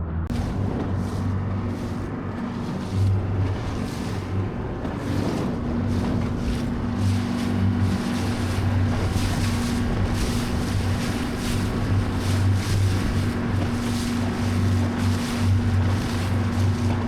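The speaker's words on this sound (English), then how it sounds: "just the sound of the engine and the sea all around you" A boat engine drones steadily with a low, tonal hum while wind and sea wash around it, out on the water near a floating oyster village in Vietnam; constant and fairly loud, with no speech.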